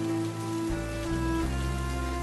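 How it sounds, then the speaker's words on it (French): Rain falling steadily outdoors under a tree, a continuous dense patter with a low rumbling wash that thickens after the first moment, with no voices. "La pluie continuait de tomber"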